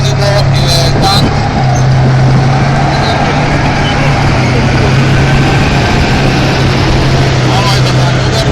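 A Slovak Moderna tank runs with a steady, loud engine drone and a strong low hum throughout, accompanied by persistent broadband mechanical noise.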